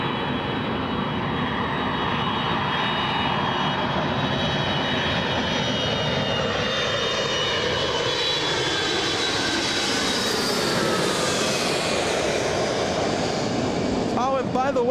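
A jet airliner arriving at Los Angeles International Airport after a flight from Boston, its engine roar loud and steady throughout, with a rising whine sweeping upward in the second half as it passes close by.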